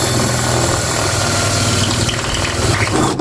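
A power drill runs steadily, boring holes through the floor of a VW T4 van during a retro build; a continuous close whine and grind for about three seconds that ends abruptly.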